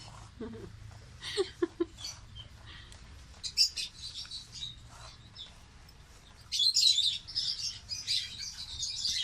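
Small birds chirp and tweet in short bursts, with a denser flurry of high twittering near the end over a low background hum.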